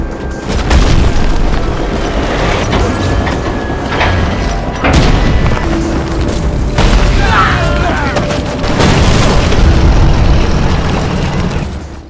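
Heavy naval cannon fire and explosions from a US warship, with deep booms landing one after another over a dense, rumbling background of battle noise.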